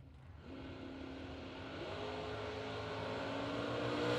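A Camaro drag racing car accelerates down the strip at a drag race, a distant, fairly faint engine note climbing steadily in pitch and building in loudness.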